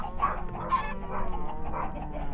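Chickens in the Minecraft video game cluck in short repeated bursts, several separate clucks spaced across a quiet background.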